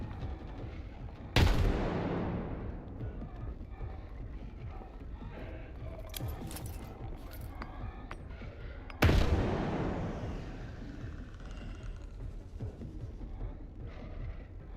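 Two thrown grenades explode in the shooter game S.T.A.L.K.E.R. 2, each a loud booming blast with a long rumbling decay, several seconds apart, over quieter game background noise.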